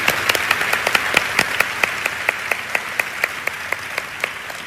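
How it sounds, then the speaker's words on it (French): Applause from a church audience at a Joyce Meyer Ministries event, many hands clapping in a fairly regular rhythm, moderately close, with no talking over it. "Nous allons applaudir nos internautes qui regardent par streaming."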